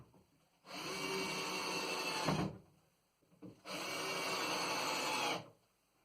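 A power driver sinks screws into the timber frame of a wooden log store in two long, steady whirring bursts, close up, with a short pause between them.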